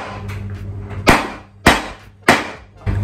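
An old wok being hammered into a gong takes four loud, sharp metallic strikes, spaced roughly half a second apart, with a low ringing hum carrying between the blows.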